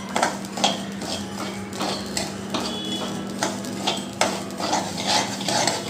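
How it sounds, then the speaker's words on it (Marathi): Amaranth (rajgira) seeds and cumin dry-roast in a pan, giving scattered sharp pops and light scraping over a low steady hum. "मस्त लाह्या फुटत आहे त्याच्या"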